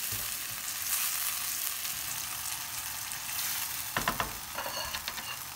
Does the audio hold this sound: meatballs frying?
yes